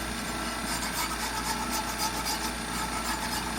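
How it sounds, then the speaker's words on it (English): Pocket knife scraping built-up crud off a lawn mower blade, a steady, close, gritty rasping that runs without a break. "scrape some of the crud that builds up on these"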